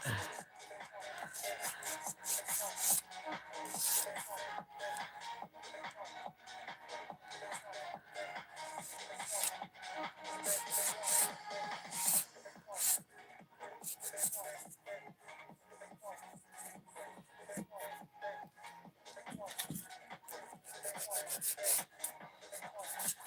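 Craft claws being filed and sharpened by hand, giving a steady stream of rough rasping and rubbing strokes at close range with brief pauses and occasional quiet handling noises, and no speech.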